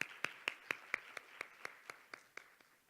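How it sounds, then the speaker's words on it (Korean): Audience applause after a panel discussion at a 2018 education leaders' forum on creativity: about a dozen sharp, evenly spaced claps, faint and distant, fading slightly toward the end with no voices. "다시 한번 박수 부탁드리겠습니다"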